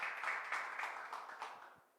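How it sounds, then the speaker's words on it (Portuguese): A church congregation claps together, a short burst of applause that fades away over two seconds. "pode aplaudir"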